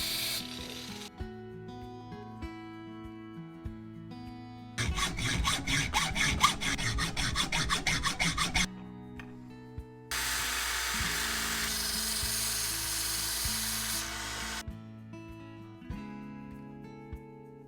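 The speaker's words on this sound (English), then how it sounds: "it's just a regular bolt that I've cut in half and added some teeth to" A steel bolt is cut in half and filed with teeth, heard as a steady high grinding buzz, a fast rasping stroke section and another long continuous grind, separated by quieter pauses with a low background hum.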